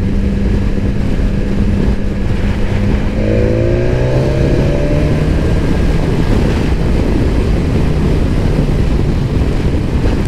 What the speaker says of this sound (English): I'm going to leave the bike in fourth. I'd probably be down to second in the dry, but I just want to ride the torque.